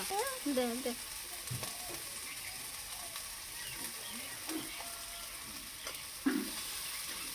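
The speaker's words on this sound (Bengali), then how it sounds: "মশলাটা এইরকম কষানো হয়ে গেলে এবার দিয়ে দেবো মাংস" Beef added to a fried spice paste for a potato curry sizzles steadily in the pan, with stirring scrapes and occasional utensil knocks over the continuous frying hiss.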